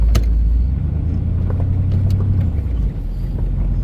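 A Chevrolet Cheyenne C10 OBS pickup with an LS engine swap drives along, its engine giving a steady low rumble close by inside the cab, with a dip in revs near the end and no talking.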